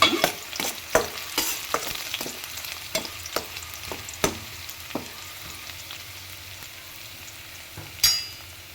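Onions frying in a pan with curry leaves for fried rice, a soft continuous sizzle under a string of sharp spatula taps and scrapes that thin out, then one last clatter.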